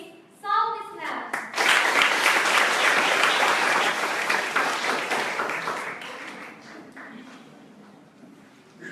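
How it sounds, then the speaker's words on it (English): Audience applause at a student academic leadership conference for the first speaker: a brief voice at the start, then loud, dense clapping from a crowd that holds for several seconds before gradually thinning out. "Please give a big applause to our first speaker"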